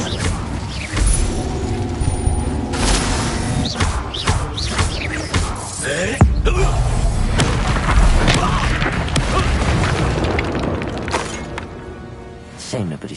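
Spell blasts in Hogwarts Legacy: a run of loud booms, crashes and shattering thuds one after another, with whooshing in between and a voice calling out over the fighting.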